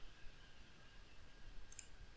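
A computer mouse clicks during a software install on a Windows PC: one faint, sharp click near the end against a very quiet room hum, with no speech.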